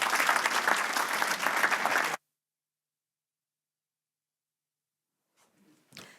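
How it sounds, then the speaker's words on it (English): An audience at a Highland Council housing challenge summit applauds steadily for about two seconds, then the clapping stops dead into silence before a faint rustle. "A round of applause for Councillor Sinclair Campbell."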